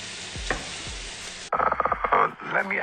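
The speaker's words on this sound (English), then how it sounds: "Oh, the sizzle." Food frying in a pan with tomato added, a loud sizzle bursting up at midpoint and crackling close by before settling, with faint cooking clatter.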